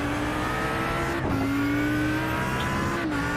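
A race car engine from the onboard camera in a 24-hour sim racing esports event, a loud, steady high-pitched drone that briefly dips and shifts pitch with gear changes, close and continuous with no voices over it.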